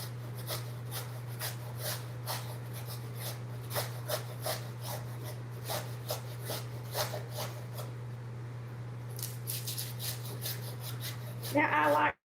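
Cabbage shredded by hand on an old-fashioned grater, giving a steady run of rasping strokes in an even rhythm over a low constant hum, with a brief louder clatter at the end.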